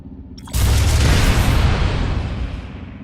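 A shield generator blows up in PlanetSide 2, a sudden loud blast after a quiet half-second, with a broad roaring rumble that slowly fades over the following seconds.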